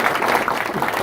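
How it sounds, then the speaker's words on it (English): An audience at a political talk applauds, a brief dense burst of clapping from a crowd that stays steady and full for about a second. "Just give them a round of applause."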